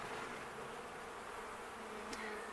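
Honey bees buzzing around a hive in an apiary, a constant faint, dense hum with no talk.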